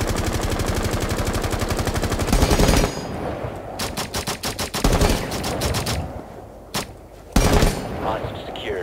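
Heavy automatic gunfire in the video game Rainbow Six Siege, starting as a dense continuous burst, then breaking into rapid separate shots and short volleys with a few isolated cracks, loud and close, with a voice speaking briefly.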